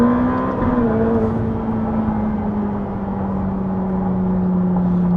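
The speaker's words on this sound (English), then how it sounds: "The sound this car makes is just out of this world." Ferrari F8 engine while driving, heard from inside the car: a steady, loud droning hum with a slowly falling tone, continuous and close with no talk.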